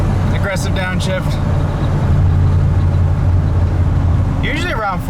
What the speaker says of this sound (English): Aggressive downshift.